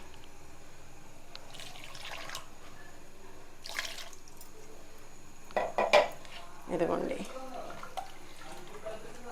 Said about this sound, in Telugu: ఐస్ వాటర్ కూడా కొద్దిగా వేద్దాం